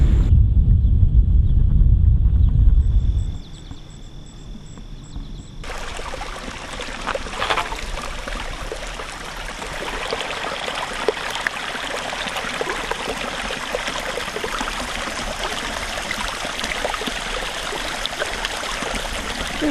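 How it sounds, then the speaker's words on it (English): A small rambling brook in the countryside flows with a steady, gentle trickle and wash. A louder low rush is heard at first, and after that the water goes on evenly with no voices. "little rambling brooks, little rambling streams"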